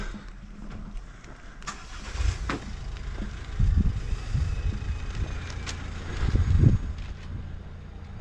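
A car driving slowly on a narrow road up to a castle in Capdepera, Mallorca, its engine rising and falling as it works uphill, with low rumbling swells over outdoor ambience.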